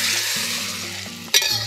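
Water spinach (cah kangkung) stir-fried in a wok at a restaurant gives a loud, steady sizzle and hiss, with a brief sharp scrape of the utensil near the end and no voices.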